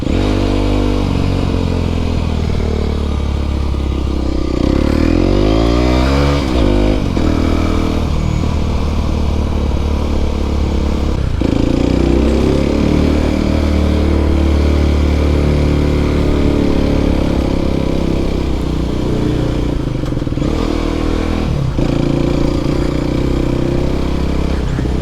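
An Aprilia SX125 125cc motorcycle rides at low speed, its single-cylinder engine droning loudly and steadily throughout, with rev changes and a gear shift early on and no talking.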